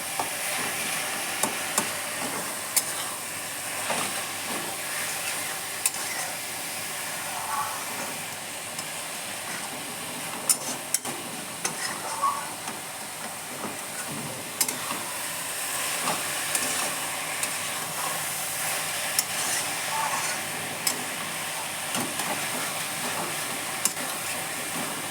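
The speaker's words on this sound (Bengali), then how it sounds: "এইভাবে নাড়াচাড়া করতে হবে, তাহলে বাঁধাকপিতে স্বাদ ভালো হয়।" Cabbage cooked without spices is stirred in a hot pan. A low, steady hiss of steam and sizzle carries scattered soft scrapes and taps of stirring throughout, with no talking.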